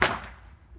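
An outdoor firework goes off with a single sharp crack, then decays quickly into a faint rumble and quiet background.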